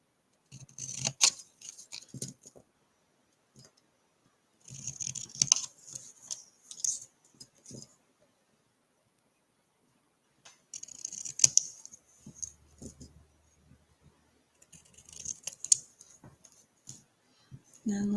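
Scissors trimming ribbon at a craft table, a series of short snipping and clicking cuts in bursts separated by quiet pauses, with faint background speech in places.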